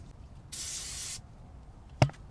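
A short burst of aerosol brake cleaner hisses steadily onto the brake disc of a 2019 Toyota RAV4 Hybrid during strut replacement, lasting under a second, followed by a sharp metallic clink.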